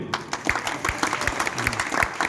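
Audience applause at a Hanuman Janmotsav religious gathering in Patiala, a dense, steady round of clapping from a crowd that fills the short stretch on its own.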